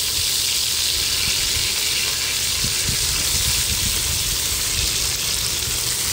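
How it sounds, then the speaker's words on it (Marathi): Chopped brinjal (eggplant) frying in hot oil in a kadhai, a steady close sizzle and hiss running throughout with soft low bubbling, loud and continuous with no talk over it. "तेल गरम झालं की त्याच्यामध्ये आपण वांगी टाकायची चिरलेली।"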